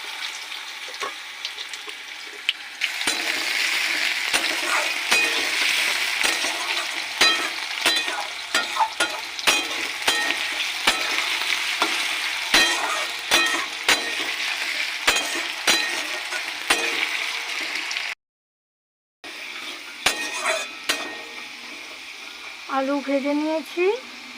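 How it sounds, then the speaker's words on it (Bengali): Chopped potatoes sizzle loudly in hot oil seasoned with bay leaf, cumin and crushed cardamom, with steady crackling and occasional clinks of stirring, a brief pause near the end, then frying resumes. "এবার দিয়ে দেবো আলু কুচি"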